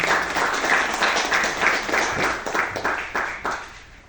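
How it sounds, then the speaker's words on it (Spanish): Audience clapping at a concert of medieval Spanish music, a moderate round of applause with individual claps audible, swelling and fading slightly before trailing off. "Fuertes aplausos, por favor."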